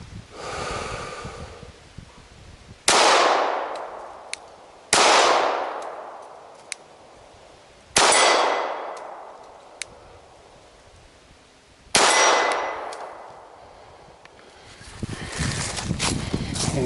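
Four loud handgun shots fired outdoors at steel targets, spaced a few seconds apart, each a sharp crack followed by a long ringing decay, with faint clicks between shots.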